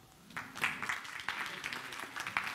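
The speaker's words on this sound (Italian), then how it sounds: "eccola là, fategli un applauso." Faint, scattered clapping from a small audience at an experiential conference, a few sharp claps standing out over a soft, thin spread of hands, heard at a low level.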